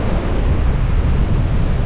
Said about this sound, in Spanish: como el viento está fuertecito